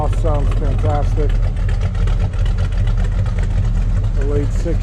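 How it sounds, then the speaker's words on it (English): A deep, steady V8 idle rumbles throughout with a throaty low exhaust note from a 1972 Buick Skylark GS tribute, while someone talks over it at the start and end. "Exhaust sounds fantastic."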